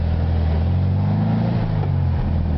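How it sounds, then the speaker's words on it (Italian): An original Volkswagen Beetle 1200 engine runs with a steady, loud low drone heard from inside the car while driving, with no talk over it. "Adesso abbassiamo il volume dello stereo per sentire il canto del motore originale 1200 Volkswagen."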